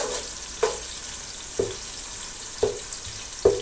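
Sliced onions and a bay leaf fry in hot oil, a soft continuous sizzle punctuated by four evenly spaced sharp knocks of a spoon against the pot.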